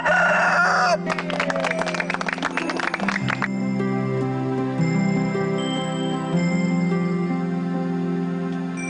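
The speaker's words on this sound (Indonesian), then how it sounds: "Coba ayammu itu suruh berkokok kembali." A rooster lets out a loud, close crow at the start, followed by a busy rattle of clucking and then sustained musical tones with no talking.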